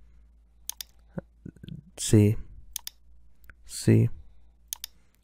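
Several sharp computer mouse clicks while operating vMix virtual studio software, close and dry and scattered irregularly, with someone briefly speaking between them.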